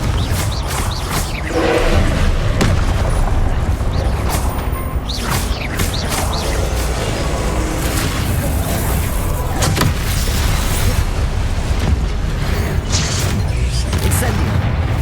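Rapid spell blasts and fiery explosions from combat in the wizarding game Hogwarts Legacy, dense and continuous with repeated booming hits layered under a steady roar of effects.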